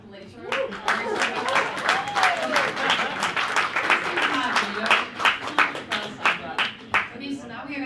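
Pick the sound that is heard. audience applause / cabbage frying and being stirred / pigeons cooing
audience applause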